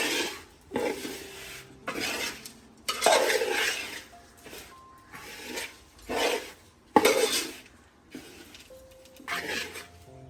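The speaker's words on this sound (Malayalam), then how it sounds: "ചേർത്തിട്ട് ഇനി നല്ലവണ്ണം നമ്മൾ ഇളക്കുകയാണ്" Chammanthi podi mixture of chili powder, tamarind and salt stirred in a pan, with bursts of scraping and rubbing strokes in uneven rhythm, close up, separated by short quiet gaps.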